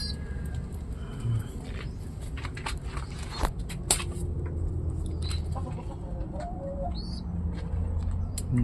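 Pigeons at a loft cooing softly among other bird calls and clucks, with scattered chirps over a steady outdoor background.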